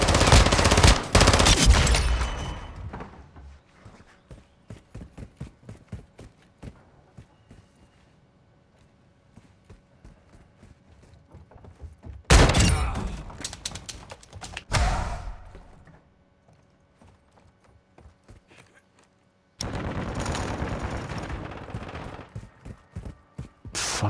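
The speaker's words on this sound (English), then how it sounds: "this light machine gun. Shoot!" Light machine gun fire in the video game Call of Duty: Modern Warfare 2, loud bursts of rapid shots in several clusters separated by quieter stretches of sparse clicks and distant game sounds.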